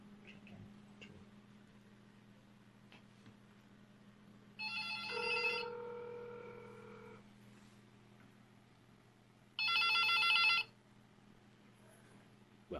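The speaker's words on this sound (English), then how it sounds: "we've dialed the phone directly from the desktop, and here it is, it's ringing" A desk phone on an office phone system rings in two separate bursts of electronic trilling several seconds apart, moderately loud over a quiet background hum, with no talking.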